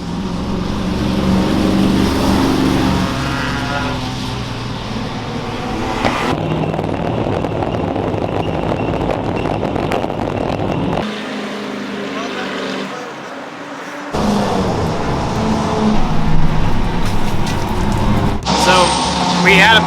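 A Dodge Dart race car pulling out onto the Charlotte Roval track, its engine droning loudly with abrupt cuts and shifts in tone as it moves off.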